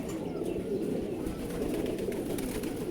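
Pigeons coo low and continuously in a loft, a dense close murmur of overlapping birds with faint chirps above, no talking.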